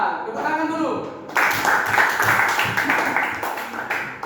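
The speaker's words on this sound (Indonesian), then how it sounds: "Tepuk tangan dulu." Students in a classroom clap together during a Christian religious education lesson, a dense burst of clapping that starts after a moment of voices and continues steadily to the end, with talk mixed in.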